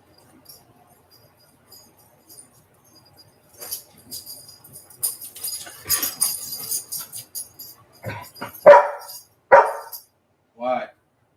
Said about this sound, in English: You don't have to bark so loud.